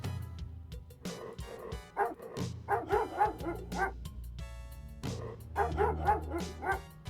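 Dog barking in the police adventure game Police Quest: Open Season, a run of repeated sharp barks in clustered bursts, fairly close, over a low background tone.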